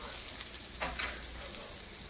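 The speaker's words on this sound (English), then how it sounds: "I'll stir that real quick so the garlic doesn't burn" Minced garlic frying in hot oil in a pan, a soft continuous crackling sizzle with a brief stirring scrape partway through, close but low in level and without talk.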